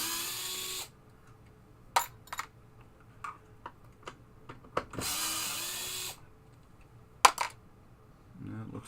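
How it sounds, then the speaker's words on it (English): Power screwdriver backing screws out of a Williams Travel Time pinball playfield, two longer whirring bursts separated by sharp clicks and small metallic taps of screws and tools, close and fairly quiet. "take these 3 screws out"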